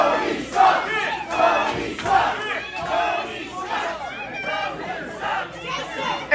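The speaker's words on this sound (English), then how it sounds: "Those Tony sucks chants." Pro wrestling crowd at a steel cage match chanting in unison against the wrestler Tony Leyenda, loud rhythmic group shouting in repeated bursts with crowd noise between chants.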